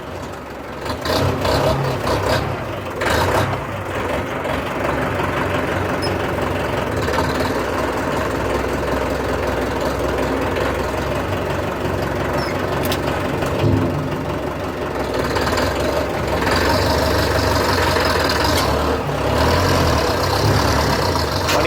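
An FM World WD 45 loader tractor with a 45-horsepower engine runs steadily up close, its dense, knocking diesel idle staying loud and continuous throughout, with a slight rev near the end.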